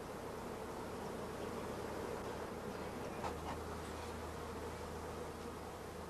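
Honey bees cluster on brood frames in a nucleus hive, giving off a dense, continuous buzzing hum. The steady drone stays even and close throughout, with no voices.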